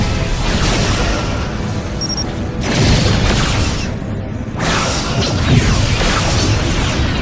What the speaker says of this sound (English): Klingon target destroyed.